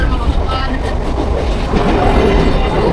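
Loud, continuous rumble and rattle of a moving train, close by, with voices talking faintly underneath.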